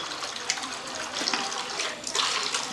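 Water pours steadily into a pot of mbika soup, a continuous hissing splash that swells and surges in a few places, close by with no voices.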